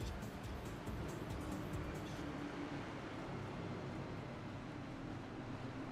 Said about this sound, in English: Make sure we got plenty of car noise up in here because we gotta hear the motors run